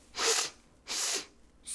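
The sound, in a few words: flea sneezing in a story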